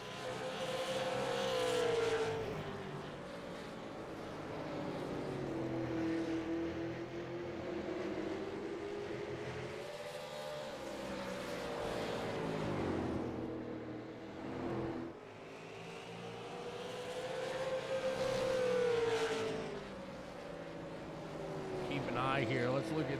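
Race cars roar around a track in a championship night at Five Flags, engines rising and falling as they pass, loud and steady across the whole stretch, with talk throughout.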